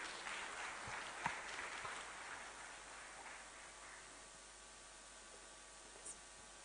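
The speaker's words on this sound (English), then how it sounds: "Please keep on clapping till she gets back to her seat." Faint applause from an audience at a female founders and funders event rises briefly, then thins out into a quiet, hissy room tone.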